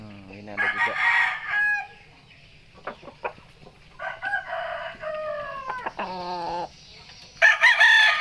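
A Philippine rooster crows several times, loud and close, with drawn-out calls and some clucking between them. No one speaks.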